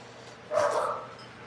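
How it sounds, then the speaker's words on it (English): One short, fairly muffled bark or yelp from a pet dog sounds in a room over a low steady hum, loud enough to startle a nearby cat. "Your doggy barks made my cat jump."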